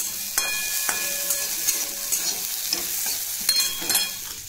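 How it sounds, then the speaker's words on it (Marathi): Dry fruits roasting in ghee in a pan, a close, steady crackling sizzle with repeated sharp scrapes and clinks as they are stirred, no speech. "सर्वप्रथम ड्रायफ्रूट्स भाजून घ्यायचं आहे"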